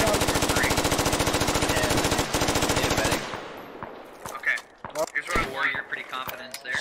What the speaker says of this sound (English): Keep returning fire. Keep that fire up.